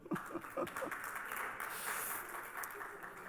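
Church congregation applauding during a sermon, scattered claps that build into a soft, continuous patter, fairly faint with a faint voice beneath.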